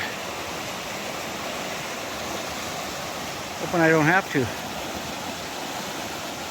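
A wilderness river rushing in the background, a steady broadband watery roar that stays even throughout, with someone speaking briefly over it near the middle.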